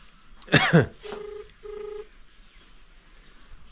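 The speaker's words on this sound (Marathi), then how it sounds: "तर धंज्याला फोन केलाय, काय म्हणतोय बघू." A phone call rings out on the line after a brief cough or vocal burst: two steady ringback tones with a short gap, moderately loud, then quiet.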